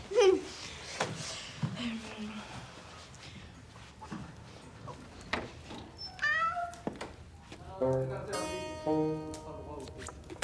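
A cat meows during a guessing game, several meows and drawn-out cries scattered among people talking, mid-distance and moderately loud.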